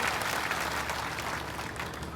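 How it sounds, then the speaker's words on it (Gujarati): A crowd claps loudly and steadily in dense sustained applause for a woman politician at a Congress party meeting, close and continuous throughout. "આપણે સૌ જબરદસ્ત તાળીઓથી બેનનું અભિવાદન કરીએ"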